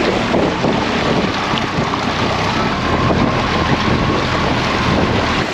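Boat with a new Yamaha outboard motor picking up speed on open water: a loud, dense roar of engine, rushing water and wind buffeting the microphone, steady and unbroken throughout, with no talk.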